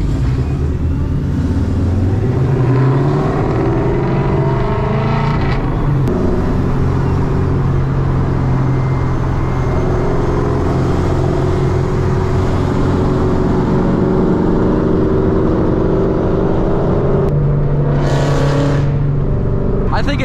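Chevrolet Corvette C7 driving on the road, a loud, steady engine drone with some shifts in pitch, heard from inside the car throughout.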